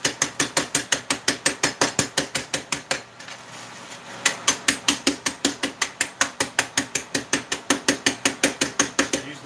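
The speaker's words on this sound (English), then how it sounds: "I use back of a metal spoon on my cutting board." The back of a metal spoon smashes spices inside a bag on a cutting board, giving a fast, even train of sharp knocking strikes, with a brief pause midway before the rhythmic pounding resumes, close and alone.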